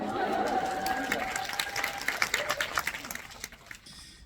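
Audience at a film screening and director Q&A claps, a dense burst of applause under a speaking voice that thins into scattered individual claps and fades out.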